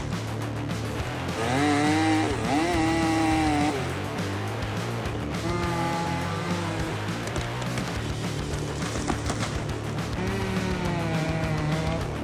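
Chainsaw with a sharp-toothed chain on a long metal guide bar cuts wood, its engine rising and falling in a loud, buzzing whine over several cutting passes.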